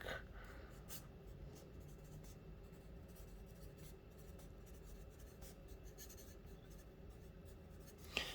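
Continuous soft scratching of a Ticonderoga Black pencil moving across Maruman Croquis paper, steady and close, with a faint tap near the end.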